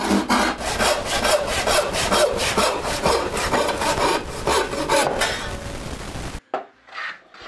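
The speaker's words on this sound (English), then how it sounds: "Let's cut it to length." Handsaw cutting a wooden workpiece to length for a plane display box, a steady run of rapid back-and-forth strokes close by, stopping abruptly near the end, followed by a few faint knocks.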